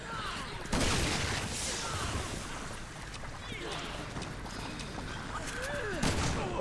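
Shotgun blasts in the video game Resident Evil 6, a loud burst near the start and another near the end over a dense, noisy game soundscape, with a voice talking.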